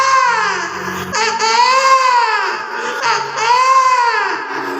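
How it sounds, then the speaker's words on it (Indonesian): A newborn baby cries in a loud, close wail, the sobbing rising and falling in long drawn-out bursts with brief catches of breath between them. "Terdengar tangisan bayi di dalam sana"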